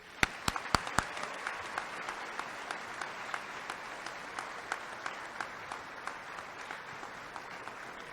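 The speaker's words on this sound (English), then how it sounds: "please join me in a round of applause for his courageous act" Audience applause at a high school senior scholarship and academic awards ceremony: a few sharp claps open it, then steady, moderately loud clapping from a seated crowd continues evenly throughout.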